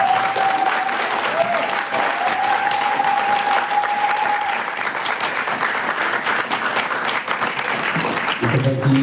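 Loud, sustained applause from a crowd at a church gathering on Mary, continuous clapping throughout with a faint tone early on and a brief sound shift at the end.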